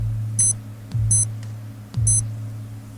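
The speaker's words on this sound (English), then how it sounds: "Time's up. Beep, beep," Time's-up beeping in a 1990s Krypton Factor quiz show: three short, evenly spaced high electronic beeps over a steady low hum, each beep joined by a soft low thump.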